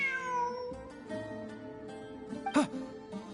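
A cat in a video game meows, a clear drawn-out tonal mew followed by a shorter sharper cry, close and moderately loud over a quiet game background.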